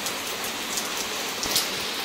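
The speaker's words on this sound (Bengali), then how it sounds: "এদিকে প্রচুর হারে বৃষ্টি হচ্ছে" Heavy rain pours down steadily in an autumn downpour at home, a dense, even hiss of drops on surfaces with a few sharper drips close by.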